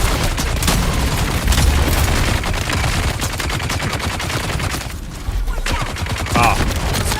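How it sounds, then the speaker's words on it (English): Gravity grenades and gunfire in the video game Dune Awakening: a dense run of loud blasts and rapid shots, followed by a brief lull and then renewed bursts, with a voice briefly heard among them. "Ah, bloody gravity grenades on it"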